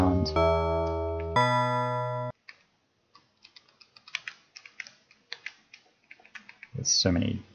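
An FM-synthesized electric piano patch on an M8 Tracker plays two sustained, bright, bell-like notes, each with a tingly attack and a bassy body. A person then talks quietly over soft clicking.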